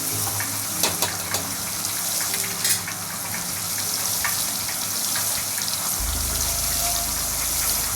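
Cabbage and onion cook in a pan with a continuous sizzle, broken by a few scraping stirs early on, and a low rumble enters near the end; no one speaks.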